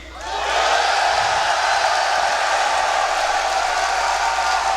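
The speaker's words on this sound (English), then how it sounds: "I want to know who in the crowd is cheering for Na'Vi, and who is the crowd cheering for Alliance" Crowd in a large esports arena at The International 3 Dota 2 grand final, a broad sustained roar of cheering and whooping that swells in within the first half second and holds loud and steady to the end.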